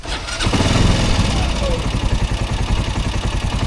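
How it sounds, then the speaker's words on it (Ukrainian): Loud, close engine of an Access 860 Super Charger quad bike, Taiwanese-made, starting and settling into a rough, throbbing idle, with someone talking over it. "Двигун працює досить е, шумно."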